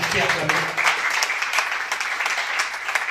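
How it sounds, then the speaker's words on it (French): Audience applause at a SOCODA Haut-Katanga royalty payment ceremony, steady dense clapping filling the whole stretch with a voice briefly audible at the start. "Est-ce qu'on peut acclamer, s'il vous plaît?"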